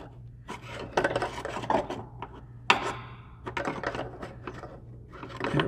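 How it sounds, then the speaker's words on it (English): Scraping, rasping metal work on a hose clamp and washer hose in an Aston Martin DB9 engine bay, close and intermittent, with short rubs and a sharp click partway through over a low steady hum. "That just needs to get loosened off so that I can pry up the hose."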